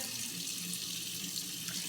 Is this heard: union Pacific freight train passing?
no